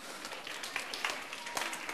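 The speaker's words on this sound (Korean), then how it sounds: "우리 친구에게 박수" Children's worship audience applauding a child, a short burst of scattered clapping heard faintly at a distance, with uneven claps over two seconds.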